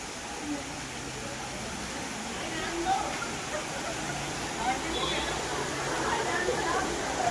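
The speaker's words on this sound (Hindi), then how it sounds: "ये है झरना छोटा सा" A small waterfall on the route toward Neelkanth near Devprayag, Uttarakhand, gives a steady, moderate rushing hiss of falling water, with faint voices in the background.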